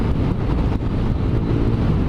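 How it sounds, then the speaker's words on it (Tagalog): Strong wind roars past a rider on a moving motorbike, a loud dense rush that buffets the microphone without a break and drowns out any engine detail. "Hangin, lakas ng hangin"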